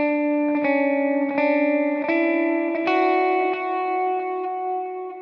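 Slow electric lead guitar line from a song with distortion and effects: single picked notes ring out one after another at an even, unhurried pace, sustained and loud with a reverberant tail, no voices.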